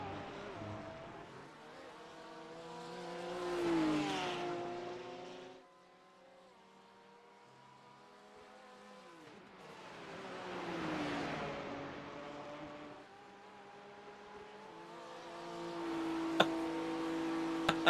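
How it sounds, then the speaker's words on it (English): GT3 race car engine in the sim racing game iRacing at the Nürburgring 24 Hours, a steady drone that rises and falls through gear changes in long swells, fairly quiet, with a few sharp clicks near the end. "The soothing sounds of the most dull-sounding GT3 engine."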